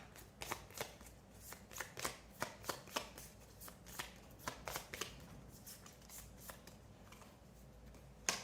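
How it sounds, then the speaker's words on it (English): Deck of cards for the board game Entrenched being shuffled by hand, a steady series of soft riffling snaps about twice per second, close and quiet, with no talking. "So the first thing you're going to do is shuffle your draw deck."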